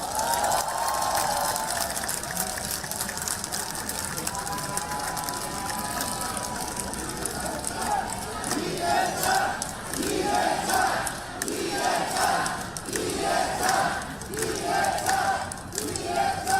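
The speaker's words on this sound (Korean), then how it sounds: "박수 한번 보내주세요" A large crowd at an outdoor political campaign rally claps and cheers loudly and continuously, a roaring wash of voices and applause with rhythmic bursts of chanting near the end.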